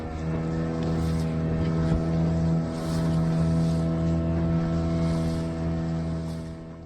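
A motorboat carries passengers back to a hotel on the Dapoli coast, its engine a steady, close, droning hum with light wind buffeting over it and no speech.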